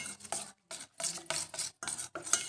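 Samosa sheet dough for manda patti being mixed: a quick series of about six close, rhythmic scraping strokes with brief pauses between them and no talking.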